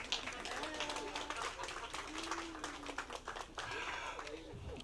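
Audience applause at a pageant for a contestant, steady broadband clapping throughout with a voice speaking over it at moments.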